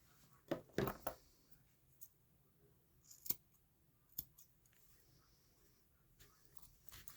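Sharp, close scissor snips cutting a mat from a Shih Tzu's foot fur during grooming, a few quick clustered cuts followed by isolated snips spaced across quiet pauses.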